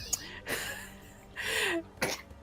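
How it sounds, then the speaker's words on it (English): An old dog hacks and coughs in several harsh bursts, fairly close but faint, with quiet moments between them. "It's just hacking up a furball."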